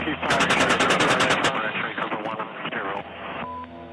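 Cannon fire from an A-10 Warthog aircraft in combat, a dense rapid burst of shots heard through radio chatter as voices talk over it.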